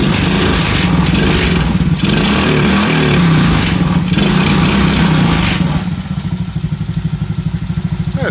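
A 110cc Chinese ATV engine runs after a carburetor repair. It gives a loud, close, buzzy putter with a few surging revs, then settles into a steady, slightly uneven idle chug.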